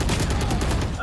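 Quick pistol shots from a video game pop in a fast, even string of about eight loud reports within a second, close and dry.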